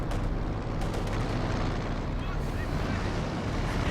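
Strafing-run explosions from Company of Heroes 2 make a dense, rumbling barrage of blasts and low booms, continuous and loud for several seconds.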